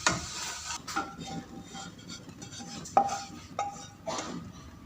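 Tamarind chutney is spooned into a serving dish, giving quiet, close clinks and scrapes of a utensil against the dish, with a few sharper taps.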